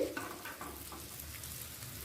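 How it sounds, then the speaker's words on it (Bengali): Hot oil sizzles and crackles softly and steadily in a pan as lentil fritters for dhokar dalna fry, close by, with no talking. "বাকি বড়াগুলো ঠিক একইভাবে ভেজে তুলে রাখব"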